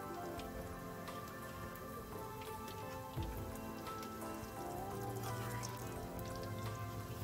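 Egg omelette sizzling in hot oil in a home kitchen, a continuous crackling spatter with a brief clink midway, fairly close and with no talk over it.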